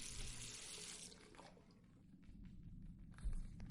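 Running water from a tap rinses a photographic plate in The Last Door, a close, steady gush for about a second before it stops, leaving faint drips and dribbles.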